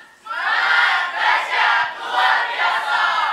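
A church youth congregation at a Bethany Malang service erupts in loud, sustained cheering and shouting with clapping, surging in waves across the whole crowd.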